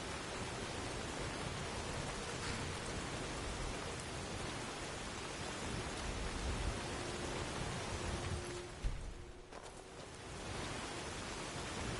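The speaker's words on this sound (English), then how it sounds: "It's like raining now." Steady rainfall in a thief roleplay video game, an even wash of hissing rain that runs unbroken and fairly loud throughout, with no voices.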